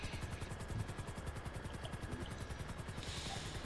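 A helicopter landing in GTA V Online gives a steady rapid rotor chop with engine whine, loud and continuous throughout with no talking.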